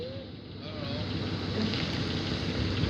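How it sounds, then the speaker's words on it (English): Strong wind gusts during a thunderstorm roar steadily and build slightly in loudness, buffeting close to the microphone. "It's getting really windy out."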